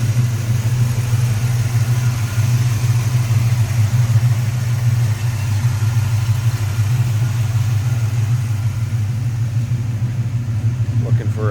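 A 1976 Chevrolet K10 Cheyenne pickup with a 350 V8, aluminum radiator and electric choke idles smoothly up close, a steady deep rumble with faint lifter ticking and no pauses.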